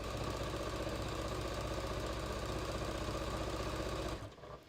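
A domestic sewing machine set to a 4.0 quilting stitch length runs steadily, basting straps onto a canvas beach tote, a continuous close mechanical whir that stops abruptly near the end.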